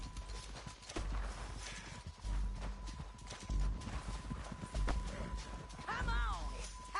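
Horse hooves clip-clop in the Red Dead Redemption video game, a steady mid-distance trot heard under game dialogue, music and ambient noise.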